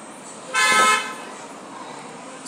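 Car horn honking near a school at pickup time, a single sustained toot from a nearby vehicle lasting about half a second over low roadside background noise.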